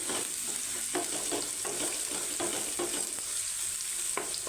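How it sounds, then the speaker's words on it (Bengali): Ginger and garlic paste fries in hot oil while it is stirred, giving a steady close sizzle broken by repeated scraping strokes of the spoon with no talking. "আর এখন একটু নাড়াচাড়া করে দেবো এই পেস্টগুলোকে"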